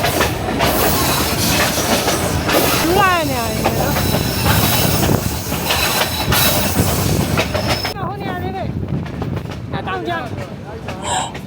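The Shan train with its carriages rolls along a 100-year-old railway bound for Taunggyi, a loud continuous rumble with clattering wheels and squealing tones, heard close from on board with voices talking over it.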